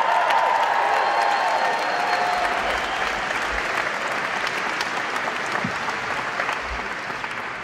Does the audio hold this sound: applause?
yes